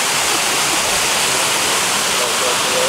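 A water fountain at Broadway at the Beach in Myrtle Beach, South Carolina splashes in a loud, steady, continuous rush of falling water that fills the whole moment without pause.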